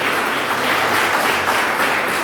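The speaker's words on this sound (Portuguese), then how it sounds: "Você pode aplaudir a esse Deus?" Church congregation applauds in a loud, dense, continuous roar of clapping that stays even and close throughout, with no talk on top.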